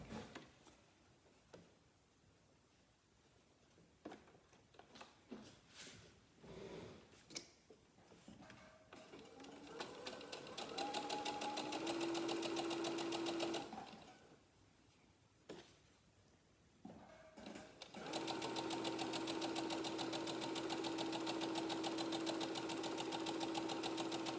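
A sewing machine stitches on fabric squares in two long runs of steady, fast mechanical whirring, with scattered clicks and handling sounds before and between the runs.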